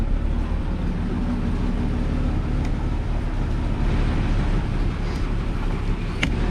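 At the tailpipe of a quieted-down 1961 Ford Falcon Delivery, the engine exhaust holds a steady, low, even idle rumble, mixed with some wind buffeting and no talking.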